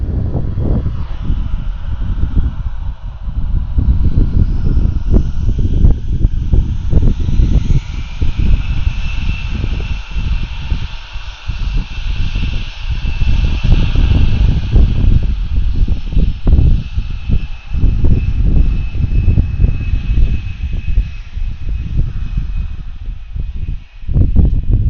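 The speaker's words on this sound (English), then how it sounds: "we're waiting for this A320 to spool them up" Airbus A320 jet engines spooling up for takeoff at Atlanta airport, a broad rushing roar with a rising whine, heard from a distance amid wind buffeting on the microphone.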